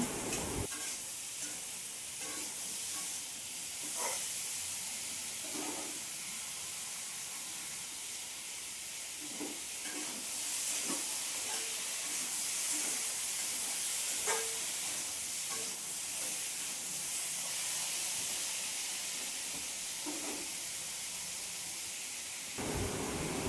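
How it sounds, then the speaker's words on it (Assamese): Ash gourd and fish fry in a pan with turmeric and salt, giving a steady, close sizzle and hiss, broken by repeated scraping taps as the food is stirred. "অলপ সময় এইখিনি ভালদৰে লৰাই ভাজিব লাগিব।"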